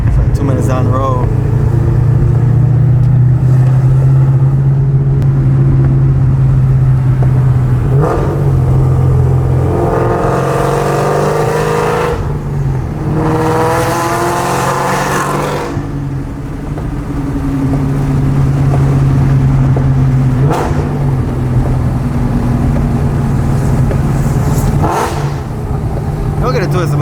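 A cammed Shelby GT500 with Borla exhaust drives along with a loud, lopey idle rumble broken by a few throttle bursts and rising revs, mostly steady and close throughout.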